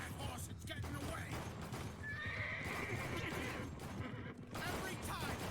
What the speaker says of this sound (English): You get that horse, it's getting away.